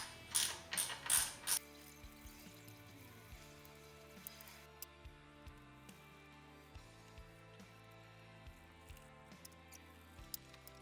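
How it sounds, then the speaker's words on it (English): An 8mm spanner undoing the clutch case bolts on a Suzuki Intruder VS1400 motorcycle: a few loud ratcheting clicks at first, then quiet intermittent clicks and small metallic ticks close by. "grab yourself an 8mm spanner and go round the exterior of the case and undo each of those bolts"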